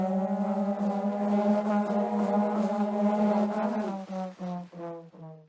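A custom Octane car engine sound in Rocket League: a steady droning hum holds a buzzing, horn-like pitch, then breaks into short revving pulses near the end.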